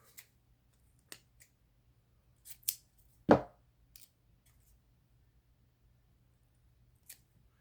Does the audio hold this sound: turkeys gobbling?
no